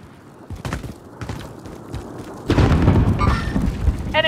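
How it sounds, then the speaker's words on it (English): Grenade explosion in the Warzone video game: a deep, loud boom rolls in midway and sustains under game noise, preceded by softer thumps and followed by brief electronic tones. "Grenade out."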